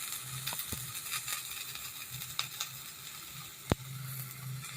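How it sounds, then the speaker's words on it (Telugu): Coriander leaves frying in a pan for tomato chutney give a soft, steady sizzle, with a few sharp clicks and scrapes of a utensil against the pan. "ఇప్పుడు ఇందులోనే కొత్తిమీరను కూడా వేసి ఒకసారి వేయించి పెట్టుకుందాం."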